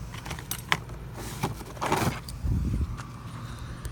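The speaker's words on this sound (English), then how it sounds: "You want to make sure your keys work okay." Keys jangle and clink in a camper RV door lock as it is tested, sharp metallic rattles coming close up in several short bursts with no talking.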